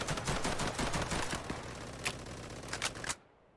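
Rapid automatic gunfire from a video game firearm, a dense close burst of sharp repeated shots that thins into a few single cracks before cutting off abruptly into near silence.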